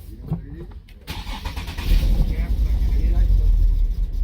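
A 2013 Nissan 370Z with a start-stall fault cranks and fires up, its engine swelling into a steady loud idle after a brief starter whir, heard close in a quiet setting.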